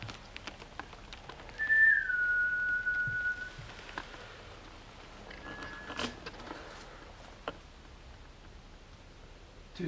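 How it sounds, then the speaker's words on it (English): A single high whistle tone rises briefly then holds, followed by a fainter second whistle, over quiet pattering and rustling background noise. "I'm sure I heard a whistle."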